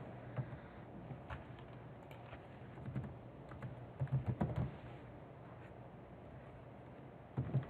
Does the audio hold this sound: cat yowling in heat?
no